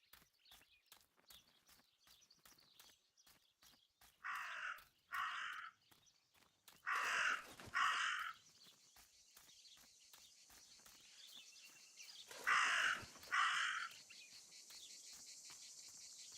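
Crows in the video game Martha Is Dead give paired harsh caws, three bursts of two calls spread over the scene, moderately near, above a bed of chirping crickets and soft ticking footsteps.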